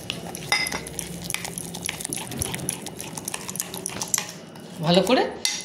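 Mustard oil and lemon juice are being mixed into a fish marinade for fish tikka, producing clinking and scraping against a metal bowl with wet, squelching stirring, close and fairly busy, and louder bursts near the end.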